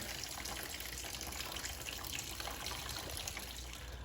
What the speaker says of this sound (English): while the radiator's finishing draining the coolant